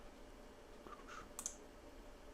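Computer mouse clicks, two or three faint, crisp clicks close together in a quiet room, with no talking.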